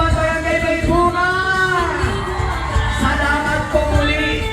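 Loud crowd of parade spectators cheering and shouting for Barangay May Bunga at the Pasig City Civic Parade, a dense continuous roar of mixed voices with whoops rising above it.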